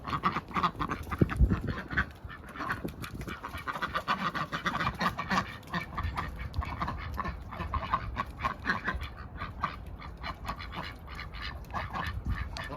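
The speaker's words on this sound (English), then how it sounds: "I think these ducks could do with a decent bath." Ducks and drakes on a winter smallholding quack and chatter continuously at moderate distance, mixed with other farmyard animal and bird calls over a busy outdoor background.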